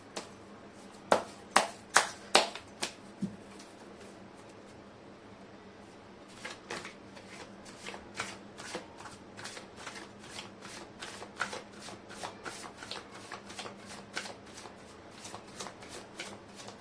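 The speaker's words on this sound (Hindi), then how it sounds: "मैं कर लेती हूँ कार्ड की शफलिंग" Tarot cards shuffled by hand: a burst of sharp riffles early on, a pause, then a long run of quieter, steady card flicks and slaps in a fairly close, quiet room.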